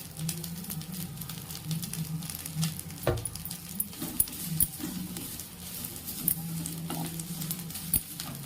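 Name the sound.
dry roasting idli podi ingredients in a pan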